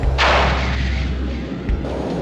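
Drop tanks release from an aircraft in the flight combat game Fighters Anthology, a heavy low boom and thump over constant engine rumble, followed by a second softer thud.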